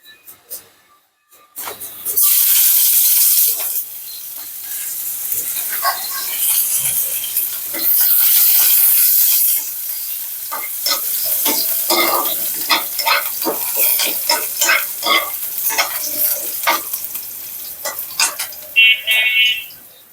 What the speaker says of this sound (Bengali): ডাল ঝোলের জন্য এখন তেলে দিয়ে দেবো পেঁয়াজ রসুন পাঁচফোড়ন দিয়ে